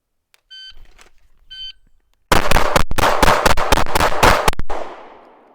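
Two brief electronic shot-timer beeps, then a rapid string of loud, close pistol shots fired in controlled pairs at a range, each sharp crack followed by quick echo decay.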